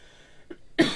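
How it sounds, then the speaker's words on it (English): A podcast host lets out a single short, sharp cough at the end, preceded by a faint throat sound, close to the microphone in an otherwise quiet room. "Man, I'm the one coughing tonight."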